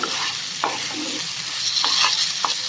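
Fried cauliflower and potatoes sizzle steadily in a pan, with a few distinct scraping stirs as sugar and salt are worked in, close and alone without voices.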